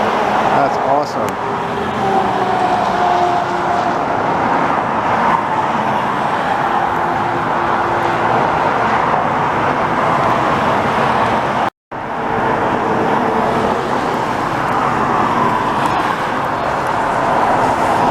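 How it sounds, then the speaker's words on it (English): A heavy CN hi-rail truck working on railway tracks in Montreal gives a steady, loud rumble of engine and roadway noise throughout, with voices faintly present and one abrupt brief dropout near the end. "heavy rig on a high rail"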